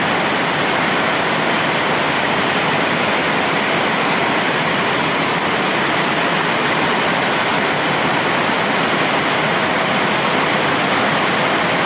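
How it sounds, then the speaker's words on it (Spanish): Heavy rain downpour pounding the Siloé neighbourhood, a dense, steady roar of falling water that fills the whole clip at constant loudness with no voices. "Fuerte aguacero azota la barriada de Siloé a estas horas de la tarde."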